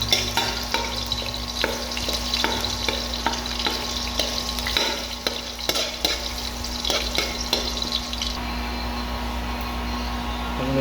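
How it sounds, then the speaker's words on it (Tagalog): Unpeeled garlic sizzles steadily in a hot pan, the frying hiss close and constant, with regular light stirring taps through the run. "Initin na po natin yung bawang."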